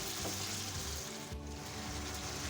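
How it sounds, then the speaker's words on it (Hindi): Mutton frying with garlic ginger paste for achari gosht, a loud and close continuous sizzle with gentle stirring and no voices. "अब मैं इसके अंदर लहसुन अदरक का पेस्ट डाल दूंगी और 2 मिनट के लिए और भून लूँगी"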